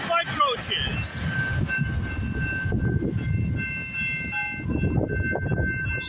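VIA Rail passenger train 78, with locomotive 902 leading five coaches on the CN Dundas Subdivision near Hardy, rumbling steadily past at close range with a faint bell-like tone, a person talking over the noise.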